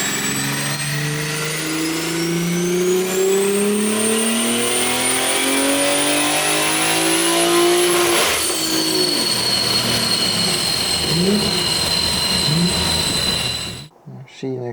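A BMW G42 M240i strains on a dyno during a first pull at wastegate spring pressure. The engine climbs steadily and loudly in revs for about eight seconds, dips briefly, then holds a high, droning pitch before cutting off abruptly.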